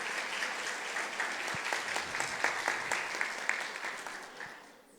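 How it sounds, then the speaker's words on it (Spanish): Audience applause at a rural women's declaration event, a steady crowd of clapping that holds for several seconds and then fades toward the end. "yo pido para ella que le demos un fuerte aplauso"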